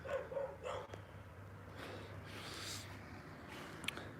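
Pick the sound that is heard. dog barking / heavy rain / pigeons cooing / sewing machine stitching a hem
dog barking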